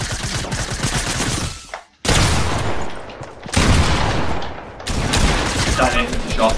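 Gunfire in Fortnite Battle Royale, loud rapid bursts and volleys of shots in several bursts separated by brief gaps, with a voice talking faintly in places.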